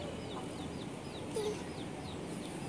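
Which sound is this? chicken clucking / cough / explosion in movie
chicken clucking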